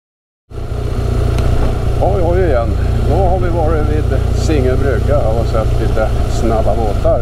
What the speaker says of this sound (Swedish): Vi åker hoj.